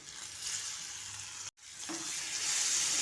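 Onion, curry leaves, turmeric and tomato frying in a pan while being mixed, with a steady close hiss of sizzling oil, a brief break in the middle and a few stirring scrapes.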